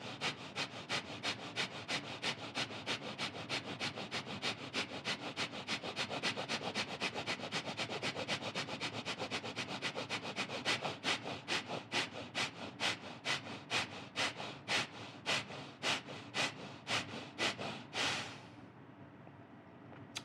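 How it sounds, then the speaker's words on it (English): Rapid yogic breath of fire: fast, even, forceful nasal exhalations repeat steadily for about eighteen seconds and then stop abruptly. The breathing is close and moderately loud, with no talk over it. "and then inhale, breath of fire."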